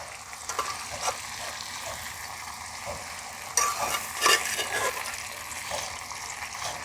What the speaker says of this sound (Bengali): এঁচোড় আলুর সঙ্গে চিংড়ি মাছটাও দিয়ে দেব